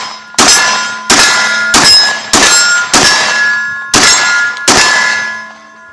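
Steel targets ring out with seven sharp clangs in quick, fairly even succession as Mossberg 930 SPX shotgun rounds strike them, each loud metallic ding decaying briefly before the next, with no talking.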